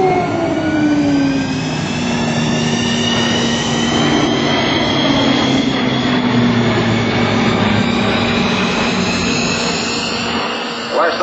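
A Lockheed C-130J-30 Hercules military transport flies past at an airshow, its loud turboprop roar sweeping by with falling whine tones as it passes and recedes.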